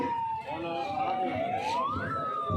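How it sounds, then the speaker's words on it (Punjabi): A wailing ambulance siren sweeps up and down in pitch over street noise and a crowd at a farmers' protest road blockade in Abohar, sounding fairly close. "ਐਂਬੂਲੈਂਸ ਆ ਰਹੀ ਹੈ, ਕਿਰਪਾ ਕਰਕੇ ਰਾਸਤਾ ਦਿੱਤਾ ਜਾਵੇ।"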